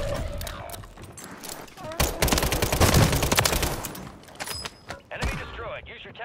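Gunfire in the Call of Duty video game, dense fusillade-like bursts swelling to a loud peak midway, then scattered shots and mechanical clatter, with voices talking over the battle.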